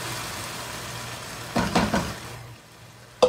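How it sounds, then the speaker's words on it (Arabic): Tomato juice poured onto minced meat frying in a pan: a low steady sizzle gives way to a few splashy bursts of louder hissing and stirring, then quiets before a sharp clink of utensil on the pan. "هضيف عليها عصير الطماطم"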